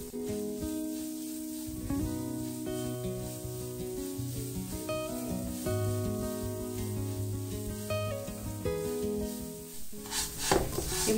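Minced garlic and angel hair pasta fry in a pan, with a steady sizzle and stirring scrapes throughout, some clattering near the end.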